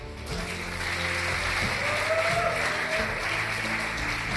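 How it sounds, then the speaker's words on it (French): An audience in a hall applauds at a ceremony for a new hospital and morgue, steady sustained clapping filling the clip with a low hum of voices and background murmur underneath. "Alors je demande d'applaudir."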